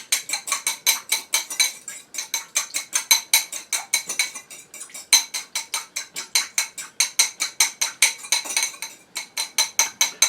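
Olive oil salad dressing being whisked briskly in a bowl, a steady rapid rhythm of metallic clinking strokes, close and fairly loud, carrying on without pause and with no talking.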